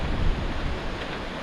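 Strong wind roars in a broad, steady rush during a rainy storm at a moto camping site in heavy rain near Mayon in Albay, buffeting the microphone in close, loud gusts with no voices.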